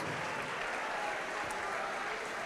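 A church congregation applauds in a steady, dense wash of clapping that holds at even loudness from start to finish.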